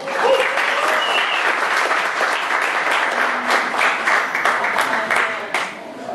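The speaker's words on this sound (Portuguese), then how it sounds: "Salve de palmas para Felipe Romano!" Concert audience applauding a musician, dense continuous clapping with a few shouts mixed in, loud and close, holding steady for several seconds before thinning slightly at the end.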